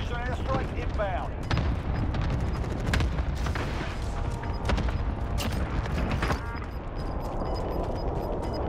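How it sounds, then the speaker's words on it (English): Cluster airstrike explosions in a Call of Duty match: a rapid string of booming blasts and crackling impacts rolling over several seconds, with voices talking over the barrage. "Cluster strike away. Be advised, friendly position airstrike inbound."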